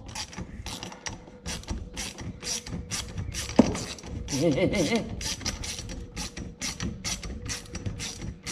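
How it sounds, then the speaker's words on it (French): A ratchet wrench unscrews a homemade magnetic flywheel puller on a Solex moped, giving a long run of quick rhythmic clicks with a brief metallic clunk and a grinding pause partway through, close and clear. "On met la clé en mode on dévisse."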